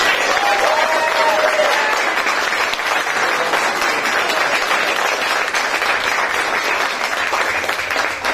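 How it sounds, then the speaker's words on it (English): Audience at a college board of regents meeting applauding all-conference award winners, a steady dense wash of clapping that holds loud and even throughout, with faint voices mixed in. "Would you please, in a big round of applause, congratulate our all-conference award winners."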